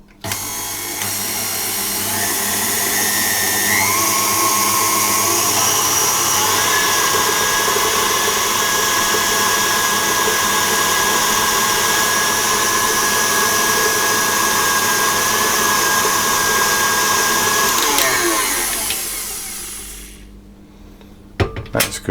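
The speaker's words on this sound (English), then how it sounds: "I'm going to put my dough hook on and add the rest of the flour" A stand mixer with a dough hook working bread dough, a loud, steady motor whine with a humming drone running for nearly twenty seconds before winding down, followed by a few faint clunks.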